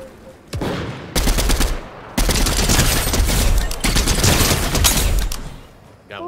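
Rapid bursts of gunfire in Fortnite Chapter 3 Season 2 crackle loudly and close, with dense automatic fire filling most of the stretch in two long volleys and no talking over them.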